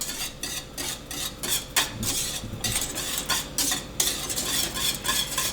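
Sugar is stirred into a pot of cornmeal porridge with a whisk or spoon, producing a continuous close scraping and swishing with rhythmic strokes against the pot, no talk.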